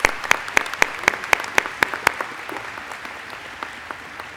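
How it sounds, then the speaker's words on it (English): At a 2017 College of New Jersey commencement, the audience applauds award recipients with a run of sharp, rhythmic claps that carry clearly at first and then thin out and fade to sparse hits. "Let's applaud all of the award recipients."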